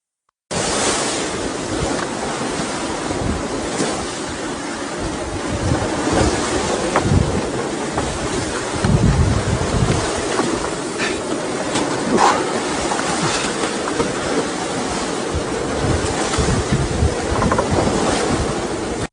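Wind and waves rush steadily around a classic Peter Duck ketch sailing off the south coast of England in a force 5 breeze, with continuous loud wind buffeting and water surging against the hull, no voices heard.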